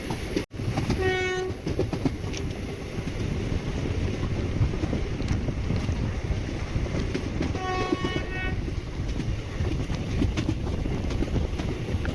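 Chennai Egmore Express train running between Mangalore Central and Tambaram, a steady loud rumble of coaches on rails with brief horn-like tonal bursts near the start and again later, no voices.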